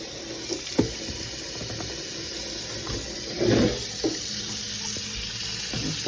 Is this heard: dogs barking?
no